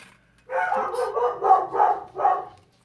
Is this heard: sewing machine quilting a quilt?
no